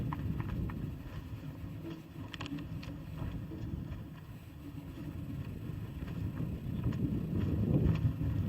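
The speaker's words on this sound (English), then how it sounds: "It's a little windy up here today." Low rumbling gusts buffet the microphone steadily at an outdoor high school graduation ceremony, rising and falling in strength, with faint outdoor noise underneath and no talking.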